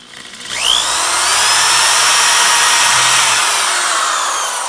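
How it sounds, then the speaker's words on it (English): A drill bores a ground wire hole at an angle through an electric guitar body into the pickup cavity, a loud sustained high whine that spins up after a brief quiet start and holds steady, with no talking. "that's going to be drilled at an angle into the pickup cavity"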